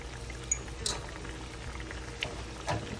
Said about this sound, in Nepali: यतिको उम्लिसकेछ। यतिको बबल आइसकेपछि अब हामी यसमा अन्डा एड गर्न जाँदैछौँ।